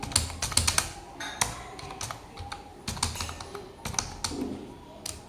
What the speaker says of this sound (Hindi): ईमेल में मैं यहाँ पे टाइप कर देता हूँ